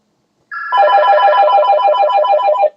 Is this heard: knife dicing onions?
no